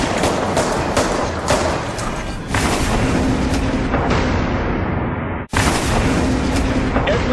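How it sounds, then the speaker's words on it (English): Dense, loud gunfire bursts and booming reports crowd a street shootout in Oakland, California, continuous and chaotic with a brief sudden cut before resuming. "bullets fly."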